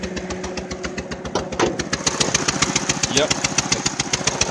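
A 2002 Saturn Vue engine with a blown-out spark plug runs rough and misfires, a rapid uneven flapping chuff repeating steadily at close range and growing louder midway, with a brief spoken word over it.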